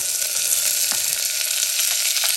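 Onions frying in a pressure cooker for kuska biryani give a steady, close, bright sizzle with faint stirring ticks, heard alone without talk.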